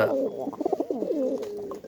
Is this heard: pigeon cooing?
yes